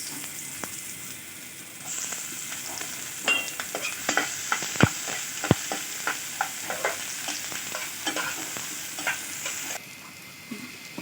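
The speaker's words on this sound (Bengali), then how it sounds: "দিয়ে দেব সরিষার তেল, দিয়ে দেব পেঁয়াজ" Onions frying in hot mustard oil for a dried-fish rice dish: a continuous close sizzle that grows denser after the start, with scattered pops and crackles and two sharp spits midway, then it eases near the end.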